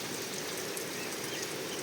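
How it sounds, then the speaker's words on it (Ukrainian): Steady rain falls all around in a dense, even hiss of countless drops, close and constant with no pauses. "Ох, і дощ файний пустився."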